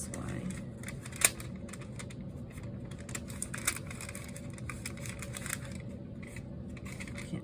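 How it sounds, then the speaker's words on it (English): Paper being folded and handled while making a junk journal with a no-sew spine, soft crisp crinkles and taps in an irregular rhythm, close, with a voice talking over it. "Now this part is going to fold back this way because that's the cover."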